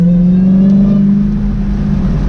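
A Dodge Challenger Hellcat with a loud exhaust gives a close, heavy, steady engine drone with a strong low hum, holding at a constant level throughout.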